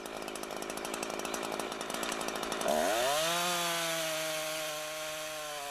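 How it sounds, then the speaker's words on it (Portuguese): A chainsaw cutting a tree: it runs with a rough, rattling idle, then throttles up into a loud, steady high whine that holds close and continuous, with no voices. "Acelere a máquina e comece a serrar."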